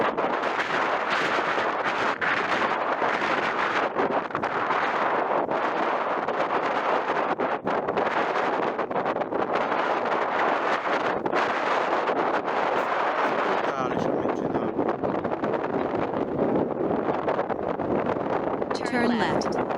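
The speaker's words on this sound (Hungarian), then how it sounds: "Nagyon-nagyon fúj a szél" Strong wind buffets the microphone during a first flight with a DJI Mini 2 SE drone, a constant rough roar that stays loud throughout with brief flutters and gusts.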